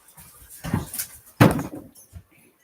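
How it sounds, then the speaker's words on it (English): Dogs romping in a living room make scattered thumps, scuffles and a couple of sharp bumps, irregular and fairly close, with no talk. "My dogs sound like they are tearing up my living room right now."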